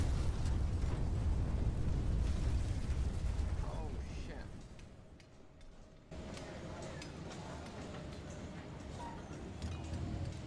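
A World War II bomb exploding in the video game Emergency 5, a loud, rumbling blast that fills the opening seconds, then fades into a lower, lingering rumble with scattered debris clinks.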